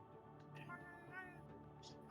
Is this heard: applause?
no